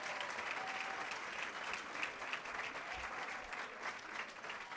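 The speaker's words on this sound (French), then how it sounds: "Donc je vous demande de bien vouloir les applaudir pour ce travail magnifique qu'ils font." A crowd at a college graduation ceremony claps steadily for staff, a dense, even wash of many hands heard from some distance at a fairly soft level, with no voices over it.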